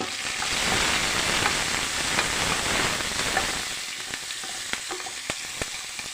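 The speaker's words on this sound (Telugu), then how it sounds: "పచ్చిమిర్చి కసూరి మేతి అలానే కొంచెం పసుపు అండి ఇప్పుడు ఇవి ఫ్రై చేయండి" Green chillies, onion, dried fenugreek leaves and turmeric fry in hot oil for tomato dal, a loud, dense sizzle that gradually eases into lighter crackles and occasional pops from stirring.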